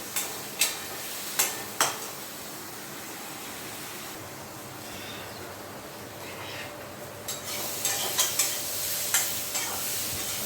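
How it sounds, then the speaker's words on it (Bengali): Spice paste with turmeric and salt fries with taro in a pan for a tangra fish curry, a steady close sizzle broken by sharp periodic clacks of the spatula scraping as it is stirred. "এবার মশলাটাকে খুব ভালো করে কষিয়ে নেব।"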